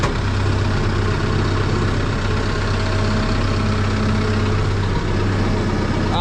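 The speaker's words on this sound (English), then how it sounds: "I'm getting ready to back the tractor off" Tractor engine idling in a hayfield at baling time, a loud, steady, low diesel rumble that stays constant throughout.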